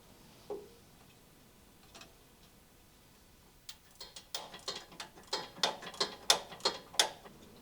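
A ratchet tightening a nut on a rail under a 2019-2025 Silverado/Sierra 1500 truck: after a couple of isolated clicks, a steady series of sharp, close ratcheting clicks that grow louder in even rhythm.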